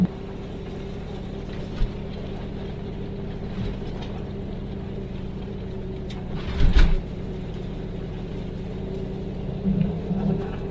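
Tracked vehicle driving over hard-packed snow in the woods, a steady low rumbling drone with a few louder thumps and scrapes, heard from on board.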